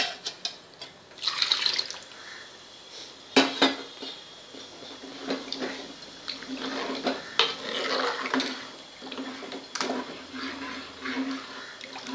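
Water rinsed from the cooking pot is tipped into cooked dal for a Gujarati kokam dal, with clinking pot and utensil knocks and a steady trickle, moderately close, with no talk.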